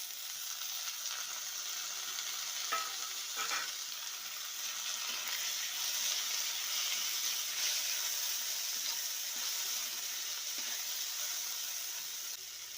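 Tomatoes hitting a hot pan for a Maharashtrian chickpea usal, giving a steady, bright sizzle that stays even throughout with a few faint stirring scrapes and no voices.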